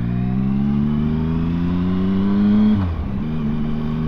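A Triumph Speed Triple 1050 motorcycle pulls away, its engine note climbing steadily and loud, then dipping sharply with a gear change before picking up again.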